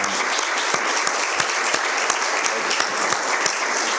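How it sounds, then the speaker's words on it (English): A lecture-hall audience applauds panelists after a discussion on the Voting Rights Act, a dense, even clatter of many hands with a few louder claps standing out, sustained throughout. "Let's give our panelists another round of applause"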